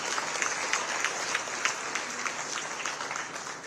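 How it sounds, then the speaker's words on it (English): Applause from the audience at an SRTEPC award show, steady dense clapping with a few distinct claps standing out, moderately faint and continuous throughout. "And a big round of applause to both these gentlemen."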